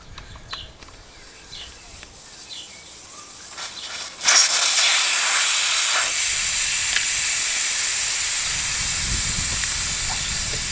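Air rushes out of a dirtbike tyre with its valve core removed during an enduro tyre change: quiet handling noises at first, then a sudden loud, steady hiss that keeps going to the end.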